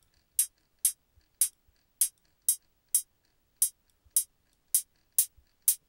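Synthesized hi-hat tones from a noise oscillator in a Thor synthesizer, a steady series of about eleven short, bright, crisp hits at even intervals, alone and fairly quiet.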